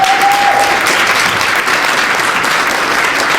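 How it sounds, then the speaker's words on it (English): Audience applause, a dense sustained clapping wash at steady loudness throughout, close and full, with no speech over it. "So give yourself a round of applause."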